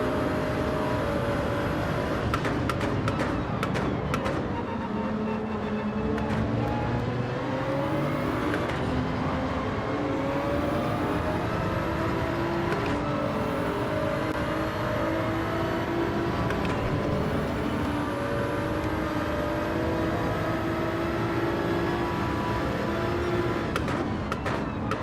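GR3 race cars lapping Interlagos in Gran Turismo 7 during a close online league battle, a dense pack of engines droning and shifting pitch continuously, loud and steady with overlapping revving from several cars.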